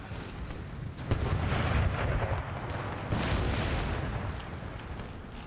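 Massed troops firing in the strategy game Empire: Total War, a dense continuous roar of musketry and booming volleys, loud and rumbling, with heavier blasts swelling up at moments.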